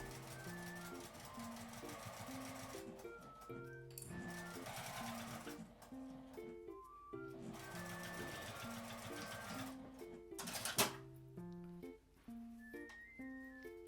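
A sewing machine stitches a 5 mm seam allowance on a small tri-fold cashless wallet, running in short repeated bursts with brief pauses between, steady and close, with faint musical tones in the background.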